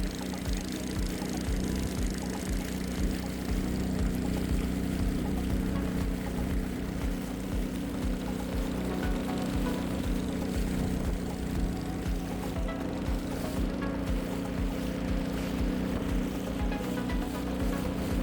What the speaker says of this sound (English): Every putter of the engine, every splash against the hull